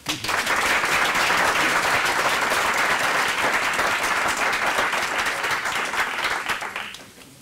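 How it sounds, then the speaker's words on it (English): Dense, loud applause from an audience at a workplace improvement report-out event, starting abruptly, holding steady for about seven seconds, then tapering off. "another round of applause"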